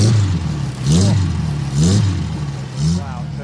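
A race car engine revs hard at Donington in three rising surges, each climbing sharply then falling back, loud and close over a steady trackside rumble with a voice speaking underneath.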